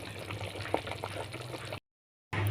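A pot of chap chai vegetable soup simmering, a close, steady bubbling and burbling that breaks off into a brief silence and then resumes.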